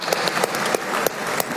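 An audience at a Gary Keller vision speech applauding, a dense wash of clapping with a few sharper claps on top, loud and sustained for a brief moment with no clear talk over it.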